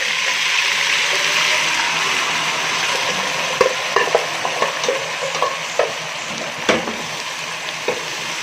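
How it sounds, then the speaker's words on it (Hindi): Boiled mutton fries in butter with browned onions in a pan, a steady loud sizzle broken by a series of scraping stirs and clinks toward the end, with no voices. "अब हमारे पास जो गोश्त था उबला हुआ वो इसमें डाल देंगे"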